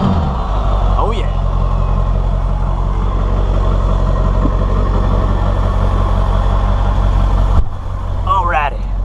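A Ford Excursion idles on a cold start with a low, steady engine rumble close by, a brief dip near the end, and faint sounds over the top.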